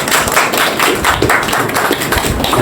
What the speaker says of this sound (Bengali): ঠিক আছে, হাততালি দিয়ে তোরা।